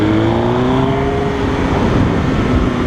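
A 2005 Suzuki GSX-R 1000 motorcycle accelerates steadily, its engine note rising in pitch over a continuous loud rush of wind and road noise, close to the rider with no talking.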